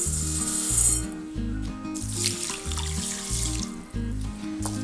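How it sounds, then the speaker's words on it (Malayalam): Biryani rice is washed under a running kitchen tap in a sink, with water splashing and swishing through the grains and rhythmic scraping and rubbing throughout, close and steady. "ഈ അരി ഒന്ന് കഴുകിയെടുക്കാം."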